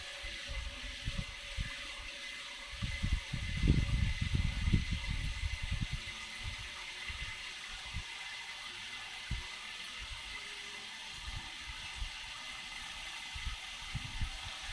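Tap water runs into a container in a kitchen, a faint steady trickle that swells into a louder splashing pour for a few seconds before settling back to a quiet flow.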